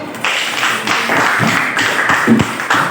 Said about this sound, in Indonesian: Oke, tepuk tangan buat Namci dulu.